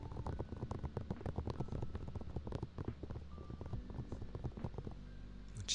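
Loofahs handled and rubbed up close in a quiet indoor room, producing a dense, continuous patter of soft crackles and taps like rain hitting a tent, steady throughout without speech.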